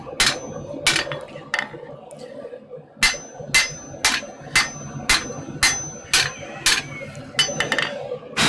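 A heavy hammer strikes metal in a smithy, with about a dozen sharp ringing blows, some in quick pairs and others spaced a second or so apart, loud and close over a low background hum.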